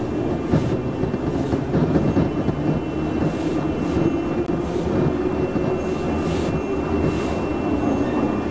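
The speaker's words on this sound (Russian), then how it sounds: "Поезд прибыл на конечную станцию Приволжское шоссе." Metro train arriving in the video game MTA Province, a steady rumbling rail roar with rhythmic clacks and hiss, continuous and moderately loud throughout, no voices.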